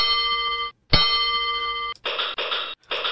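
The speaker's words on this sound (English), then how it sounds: "Oh, we've got another bell." Signal box bells in a PC-Rail heritage signalling simulation of Seaton Junction ring out in a sequence: two long sustained rings separated by a brief gap, then three short rapid strikes, all close, loud and bright with no voices.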